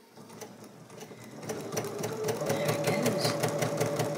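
A sewing machine stitches a quilt with a steady rapid needle rhythm that speeds up and grows louder midway, its motor whirring close by throughout.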